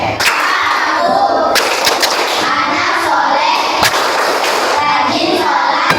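A classroom of schoolchildren performs the tepuk anak soleh clapping chant, loud chanting voices punctuated by sharp group claps in an irregular rhythm, close and energetic throughout.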